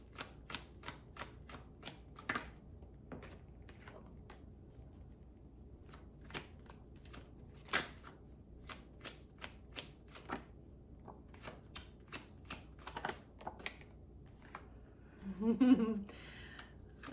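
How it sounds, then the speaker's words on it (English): A deck of tarot cards is shuffled again and again, giving a run of quick dry riffling clicks and snaps close by. A short voice sound or hum comes near the end. "So let's pull some cards."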